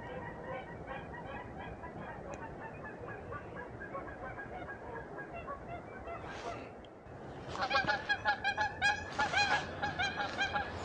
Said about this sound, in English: Two geese just flew through. Canadian geese, obviously lost here in Oregon.